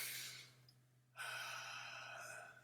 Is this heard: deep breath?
yes